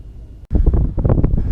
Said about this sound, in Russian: Облака, ветер усилился.